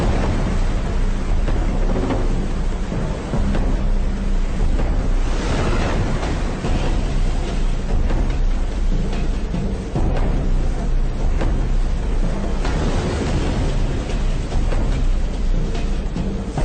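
Violent storm at sea in Antarctic waters during a strait crossing, with heavy surf crashing, rushing wind and rain blending into a loud, continuous roar that swells repeatedly without letup.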